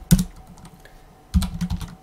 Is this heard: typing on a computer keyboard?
yes